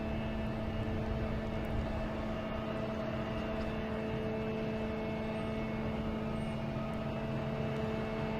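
A Japan Airlines airliner passes at Boston Logan Airport as a steady, droning engine roar with tonal whine, moderately distant and unbroken throughout, with no voices.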